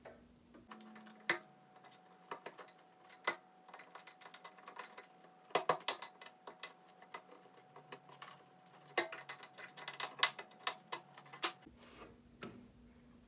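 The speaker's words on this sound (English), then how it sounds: "use the X-Acto knife to cut out the material between the holes" An X-Acto knife cuts out material between drilled holes in an RC car roof for a Redcat Gen8. Scattered sharp clicks and scrapes come in irregular bursts over a quiet background hum.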